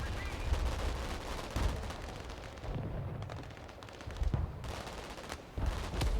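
Gunfire and explosions in the real-time strategy video game Broken Arrow, with dense, continuous battle noise and repeated sharp bursts throughout.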